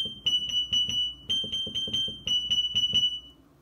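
An electric piano plays a rapid, repeating high tone imitating a carbon monoxide detector alarm, with bursts of four quick beeps separated by short pauses and sounding clear and close.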